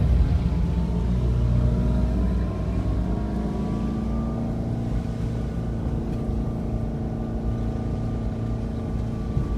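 A car on a road trip from Lucena to Lopez, Quezon, drives and overtakes along a provincial road, producing a steady, close engine rumble with rising and falling drone throughout, no talking.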